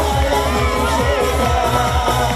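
A crowd at a bat mitzvah party cheers and whoops for a dancing girl, loud shouting from many voices, including children, over pounding dance music that runs throughout.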